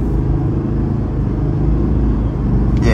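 A 2024 Chevrolet Silverado 3500HD LT heavy-duty pickup with the Duramax diesel engine accelerates in a loud, steady, close-up low rumble with no talking.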